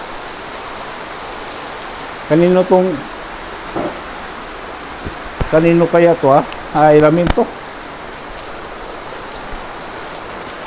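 Heavy storm rain pours down in a steady, close hiss that fills the whole stretch, while a few people talk in short bursts over it.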